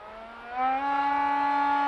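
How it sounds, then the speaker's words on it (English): A C1 Chaser model airplane roars past at full throttle, its steady buzzing engine tone rising in pitch and swelling as it nears, loud and continuous. "I'll do one more full throttle pass."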